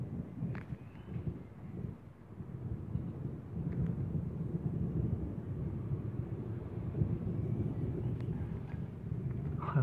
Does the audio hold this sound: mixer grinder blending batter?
no